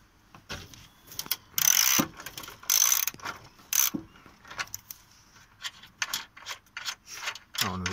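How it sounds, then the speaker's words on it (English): Ratchet wrench loosening a bolt on the boot strut of a Peugeot 206cc, with several bursts of rapid close clicking separated by short pauses and some handling noise. "just undo this bolt to release the mechanism"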